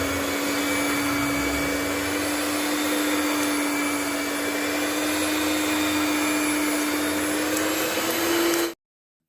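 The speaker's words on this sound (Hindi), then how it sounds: "मैं ब्लेंडर से इसे मतलब ब्लेंड कर रही हूँ।" An electric blender whirs steadily for about eight and a half seconds as it mixes cake batter made with flour and sugar, a loud, even motor drone that cuts off abruptly at the end.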